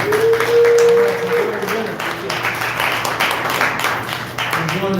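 Steady applause from a press conference audience, a dense wash of clapping that carries on throughout, with a voice briefly audible near the start.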